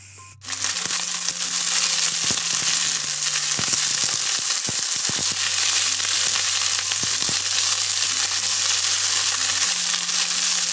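Drumstick leaves frying in hot ghee in a pan give a loud, steady, close sizzle that crackles without a break throughout, with small scrapes and clinks under it.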